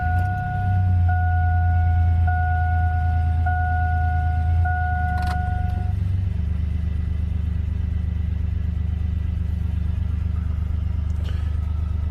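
Idling engine of a 2002 Chevy S-10 Xtreme with a worn drive belt, idler and tensioner pulleys, a steady low rumble close by with a repeating high squeal in the first half that fades out.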